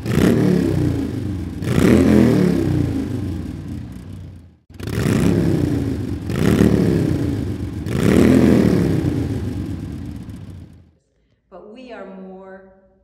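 Motorcycles at the Sturgis motorcycle rally in South Dakota: loud rumbling engines revving up and down in several long surges, followed by a short fainter pass at the end.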